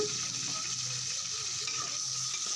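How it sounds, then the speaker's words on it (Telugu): Cut tomato pieces fry in oil, giving a continuous soft sizzle and hiss with faint stirring underneath and no clear breaks. "టొమాటోస్ని ఇలా పీసెస్లా కట్ చేసుకొని అదే ఆయిల్లో మనం చక్కగా ఫ్రై చేసుకోవాలి"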